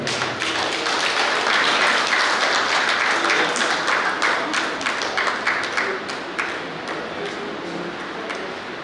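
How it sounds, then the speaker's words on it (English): An audience at a Goa singing competition claps steadily for several seconds, scattered individual claps standing out, tapering off somewhat toward the end. "Let's give a clap to Father."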